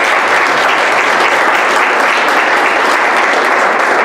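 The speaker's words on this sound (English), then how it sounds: "let's begin by just giving the students a round of applause" Loud, dense applause from an audience at a speech competition finals, honoring the student finalists, continuous close clapping filling the whole stretch with no talk over it.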